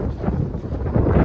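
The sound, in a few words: strong wind gust blowing into microphone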